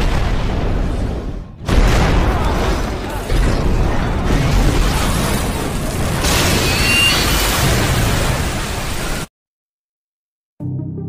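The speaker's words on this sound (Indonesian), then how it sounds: "Jerman membalas dengan menjatuhkan bom bawah lautnya" Depth charges exploding underwater around a World War II submarine in a war film: dense, heavy booming rumble for several seconds, then an abrupt silence and a brief return of sound.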